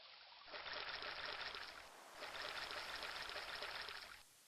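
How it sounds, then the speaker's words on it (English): A flowing stream in the King's Quest III Redux adventure game runs as a soft, steady rush of water in two continuous stretches separated by a brief pause, with no voices. "The stream ends its journey here."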